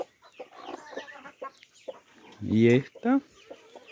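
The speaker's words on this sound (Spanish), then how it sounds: "Vean qué lindo que están los pollitos." Creole hen clucking among newly hatched chicks at home, with soft clucks and a louder burst near the end, mixed with a person talking nearby.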